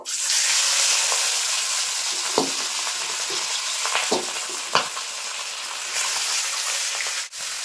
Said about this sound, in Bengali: তেল খুব ভালোভাবে গরম হয়ে গেছে, এখন মাছ দিয়ে দেব